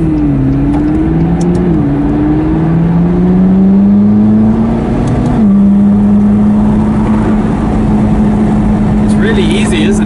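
A McLaren 12C Spider with Gemballa modifications, driven on the road with paddle-shift gears, revs up through rising engine notes, then settles into a steady, close, loud drone from the cabin.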